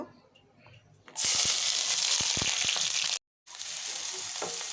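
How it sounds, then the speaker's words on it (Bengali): Onions fry in oil for a fish curry, a loud sizzling hiss that starts suddenly after a quiet moment, with faint stirring clicks, a brief cut to silence, then the frying resumes. "পেঁয়াজটা আমি ভালোভাবে নেড়ে চেড়ে একটু হালকা ভেজে নিব"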